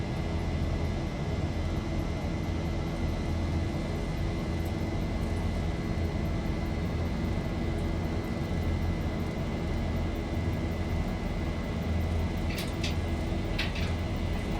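A Boeing 737 jet at takeoff power rolling down the runway in the X-Plane 11 flight simulator, a steady loud engine roar with a constant whine, plus a couple of brief clicks near the end.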